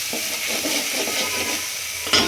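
Masala for gongura chicken fries in hot oil with a steady, close sizzling hiss while a spoon stirs it, a faint scrape near the end.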